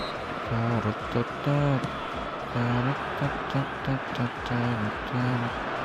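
A stadium crowd in an eFootball match, a steady roar of spectators rising and falling in swells beneath a commentator's voice.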